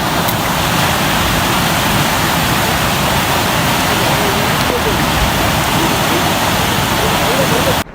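Heavy rain pours down at Horton Plains in Sri Lanka, a loud, dense and unbroken roar of falling water lasting throughout before cutting off abruptly at the very end.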